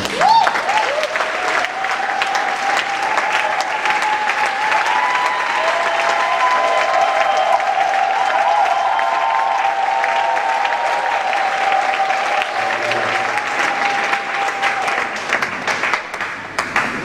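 Church congregation applauding loudly and continuously during worship, a dense sustained wash of clapping with a held voice or tone ringing underneath throughout.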